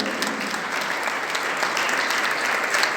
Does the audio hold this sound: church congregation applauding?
yes